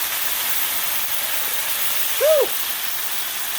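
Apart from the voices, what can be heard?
cans of diced tomatoes added to hot garlic pan, steaming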